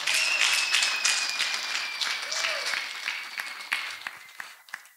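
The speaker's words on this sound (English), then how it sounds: "Let us clap for Master Jesus." A church congregation claps together in sustained applause during a testimony service, loud at first and gradually thinning out over five seconds.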